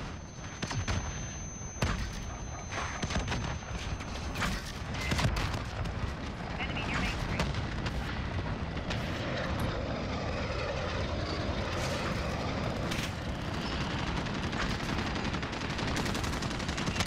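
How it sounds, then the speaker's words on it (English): Gunfire in an online shooter video game, steady bursts of shots layered over a dense, continuous game soundscape with engine-like roar throughout. "he just continuously shot at me"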